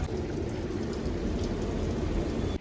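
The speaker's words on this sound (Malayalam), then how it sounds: "ഒരു ഒടുക്കത്തെ മഴ" Heavy rain pours steadily in a dense, unbroken hiss of drops hitting surfaces, close and loud, with no voices, cutting off abruptly just before the end.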